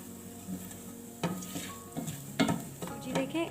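Semolina being dry-roasted over a low flame and stirred in a pan until it starts to brown, with a soft constant sizzle broken by several scraping strokes of the spoon against the pan.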